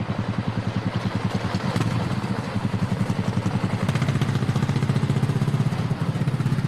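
An AI-generated motorcycle engine for a gorilla riding down a street, with a steady, loud, rapid pulsing putter running throughout and no speech.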